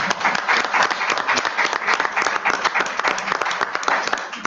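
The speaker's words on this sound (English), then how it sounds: "We'll give them a round of applause as well." An audience at a ministerial public review session gives a round of applause, with many hands clapping densely and steadily, moderately close, for about four seconds and no talking over it.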